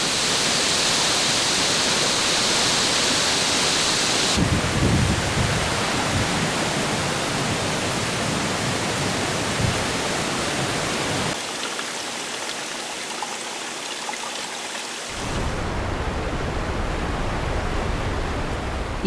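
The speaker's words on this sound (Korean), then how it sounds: "엉또 폭포는 비가 내리자 천둥 같은 굉음과 함께 물줄기를 쏟아냅니다" Eongtto waterfall on Jeju after rain gives a loud, steady roar of falling water, broadband and continuous, shifting in character a few times as the view changes but never letting up.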